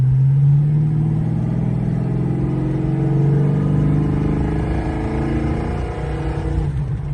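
A 1978 Chevrolet C10 pickup truck engine revs up loudly and close, its pitch rising and falling through a couple of throttle blips before settling into a rough idle.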